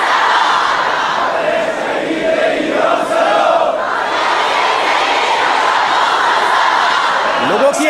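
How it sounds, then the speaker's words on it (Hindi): A huge crowd packs the funeral of Khamenei, a dense wall of many voices chanting and shouting that goes on without pause, with a commentator speaking over it. "लोगों की ये भारी भीड़ और शोर"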